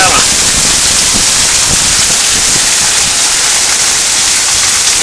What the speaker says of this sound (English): Look, it's coming down a sheet. It's raining in Louisiana.